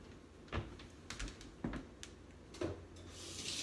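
A kitchen counter is wiped with a dishcloth while sweet pickle relish is being canned at home, producing a few soft, brief rubbing swipes in a quiet room.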